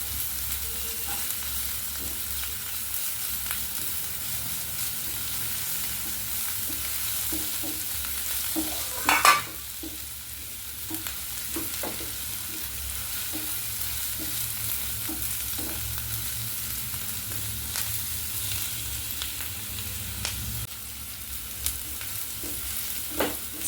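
Crushed ginger, garlic and curry leaves with onions sautéing in a pan for a mutton curry, a continuous soft sizzle under repeated spoon stirs and scrapes, one louder clatter near the middle, no talking.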